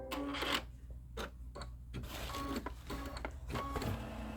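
A home embroidery machine stitching an outline on pieced quilt star blocks: close mechanical whirring and clicking in uneven bursts with short pauses, over a steady low background hum.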